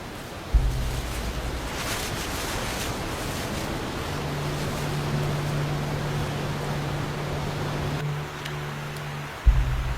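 The Kali Gandaki river flows through a valley, a steady, dense rush of water that runs unbroken, with a low sustained tone underneath and no talk.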